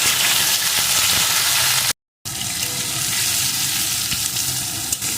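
Chopped eggplant pieces frying loudly in hot oil in a pan, a dense close hiss and sizzle with stirring, cut by a brief silent gap.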